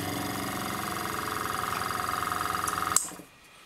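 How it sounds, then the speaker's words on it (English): A small airbrush air compressor runs with a steady pulsing motor hum, building to pressure, then clicks off and winds down to near silence; no talk. "when you turn the compressor on, it'll actually move up to pressure"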